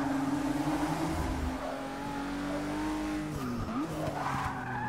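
Racing car drifting through a corner in Forza Motorsport 6 at a Rio de Janeiro circuit, with steady engine drone and sustained tire squeal that bends and wavers near the end, loud and continuous without talk.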